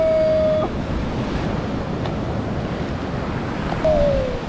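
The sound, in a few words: ocean waves at the sea shore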